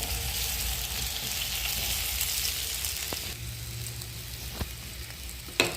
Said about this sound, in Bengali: মূলোকে মোটা মোটা করে কুটে জল দিয়ে সিদ্ধ করে নুন একটু চিনি মাখিয়ে হলুদ দিয়ে ভাজা হচ্ছে